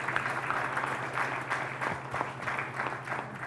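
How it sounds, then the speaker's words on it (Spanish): An audience at a formal signing ceremony for a collaboration agreement gives steady, moderately loud applause that keeps going throughout. "Les pediría un aplauso para esta firma."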